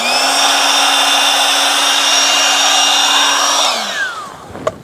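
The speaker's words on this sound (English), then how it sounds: "I'm gonna turn this little air mattress thing on." A small electric air mattress pump runs steadily with a loud whirring motor hum and rushing air as it blows onto a freshly cleaned car tire, then winds down and stops near the end, followed by a faint click.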